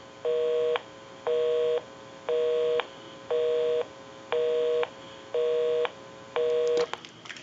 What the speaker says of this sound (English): We'll call my number and it'll be busy.